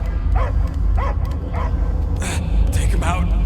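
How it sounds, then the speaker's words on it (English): A dog barks in the Guardians of the Galaxy video game, giving a string of short, repeated barks and yips at a steady rhythm, fairly close and clear over low background noise, with voices joining near the end. "I hear only barking."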